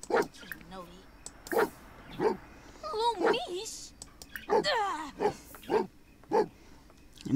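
A dog barks in The Sims 4 life-simulation game, a series of about ten loud, close woofs at a steady, rhythmic pace, mixed with whines and game voices babbling in simulated speech between the barks.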